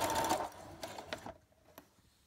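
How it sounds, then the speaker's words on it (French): Sewing machine running a holding seam for an invisible zip, a short close whirring burst that slows into a few faint mechanical clicks before stopping, quiet overall. "Donc là, je fais juste la première couture de maintien."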